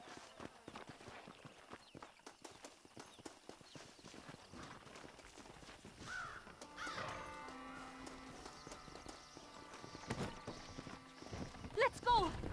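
Horses pull a stagecoach in the Western video game Red Dead Redemption, with a steady run of hoof clip-clops, an occasional whinny, and characters speaking over the trotting.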